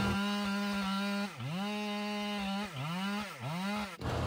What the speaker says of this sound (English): I then walk around to the compression side and cut the hinge off.